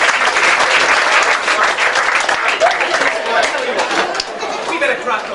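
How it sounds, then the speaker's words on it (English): Theatre audience at an amateur pantomime performance giving a dense, sustained round of applause and cheering throughout, loud and close, fading slightly toward the end. "Give yourself a round of applause."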